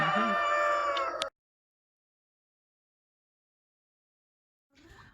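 A rooster crows loudly and close by for about a second on a poultry farm, then silence follows before faint clucking and farmyard noise return near the end.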